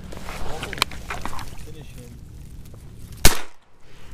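A shotgun with a modified choke fires one sharp, loud blast on a Kansas public-land duck hunt, after earlier talk and faint shots, and the sound drops to near quiet right afterward.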